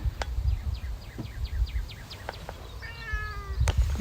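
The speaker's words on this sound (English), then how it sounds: "You need to come up with a happier meow" A cat meows over and over, close and fairly loud, with quick repeated calls and a longer drawn-out cry near the end, set against a steady background rumble.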